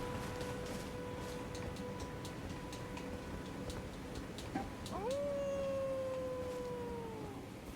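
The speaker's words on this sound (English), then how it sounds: "Invisible wolf, where are you?" An invisible wolf in the Elden Ring video game lets out a long, sliding howl that rises and then slowly falls, heard over faint ticking game ambience.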